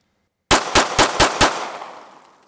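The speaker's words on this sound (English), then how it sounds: "now I'm gonna shoot 5 more shots just as fast as I can" Five rapid pistol shots fired as fast as possible in quick succession, close and loud, after silence, with the reports echoing and fading out afterward.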